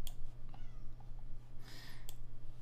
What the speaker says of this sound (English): I hear my cat meowing outside my door.